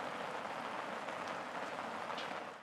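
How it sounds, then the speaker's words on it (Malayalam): Steady heavy monsoon rain in Ernakulam, Kerala, a continuous dense hiss that holds evenly at moderate loudness throughout, with no voices. "വരും മണിക്കൂറിലും മഴ ഇതേ രീതിയിൽ തന്നെ തുടരാനുള്ള സാധ്യതയാണുള്ളത്."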